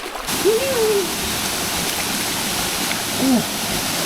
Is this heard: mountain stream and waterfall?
yes